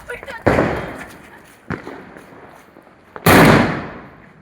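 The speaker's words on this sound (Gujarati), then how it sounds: "અમે મિર્ચી બોમ્બ ફોડવા જઈ રહ્યા છીએ" Mirchi bomb firecrackers set off outdoors on Diwali, two loud sharp bangs about three seconds apart with a smaller pop between, each followed by a fading tail; voices are heard around them.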